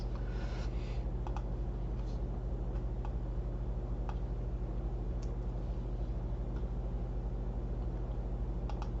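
Sparse keystrokes on a computer keyboard, scattered clicks over a steady low hum, faint and close.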